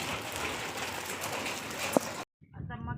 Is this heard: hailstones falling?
yes